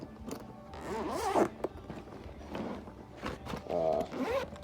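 A zipper runs along a pocket of a plumber's hand tool bag, several short rasping pulls with rustling fabric between them, close and fairly quiet.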